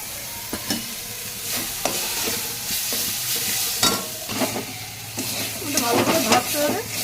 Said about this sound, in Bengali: ঢেঁড়স ভাজাটা নুন দিয়েছিলাম তারপরে ওর মধ্যে এই মিশ্রণটা ঢেলে দেবো